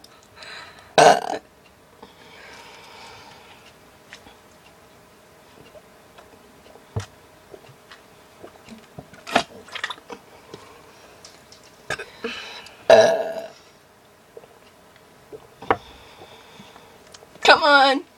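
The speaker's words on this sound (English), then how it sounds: "We're all here air burping." Several people burp after drinking. The burps come as scattered loud bursts with quieter gaps and chatter in between.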